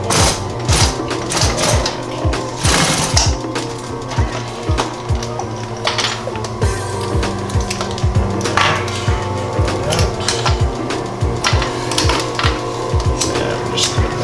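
Sewing machine stitching leather for a duffle bag, with rapid mechanical needle strokes that run in bursts and pauses, close and fairly loud, over a steady motor hum.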